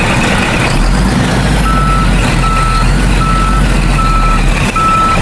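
A reversing truck sounds its backup alarm, a repeated steady beeping that rings over a loud, continuous engine rumble, with a brief hiss near the end.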